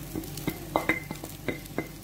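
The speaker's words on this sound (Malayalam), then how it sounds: "നന്നായിട്ട് ഈ മസാലയൊക്കെ ചിക്കൻ പിടിക്കാൻ വേണ്ടി മിക്സ് ചെയ്ത് കൊടുക്കുക" Chicken is stirred into masala in a hot pan for a Kerala-style chattipathiri, making a gentle sizzle under a spoon that scrapes and taps in a steady rhythm, about seven strokes in two seconds.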